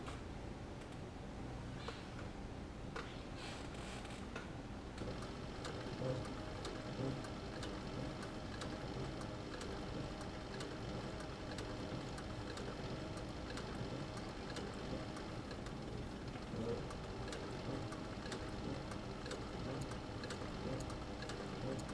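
A sewing machine stitches a leather bucket tote bag, the seam held flat by hand, giving a steady, continuous mechanical hum with a fine rapid ticking that runs unbroken for the whole stretch at moderate, even loudness.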